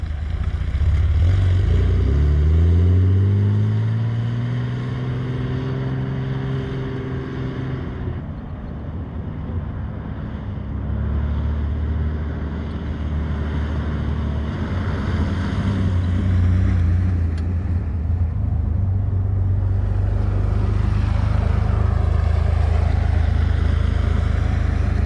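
A Jeep TJ with its sway bar removed drives along, its engine drone and shifting tones steady and loud throughout, with road and wind rumble underneath and no talking.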